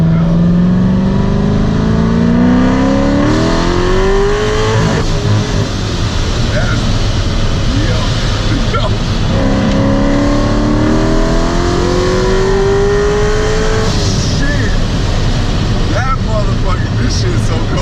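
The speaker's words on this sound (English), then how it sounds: "See, that rev match is insane." A supercharged Z51 Corvette Stingray with a manual gearbox revs hard and close, its engine note climbing in two long sweeps with sharp blips from rev-matched downshifts between them, loud and raw, with people talking over it.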